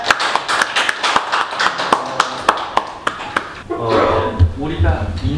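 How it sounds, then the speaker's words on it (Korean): An audience at an indoor business presentation applauds, a run of sharp, uneven hand claps that dies away as a speaker begins talking over the final few claps. "박수로 부탁드리겠습니다."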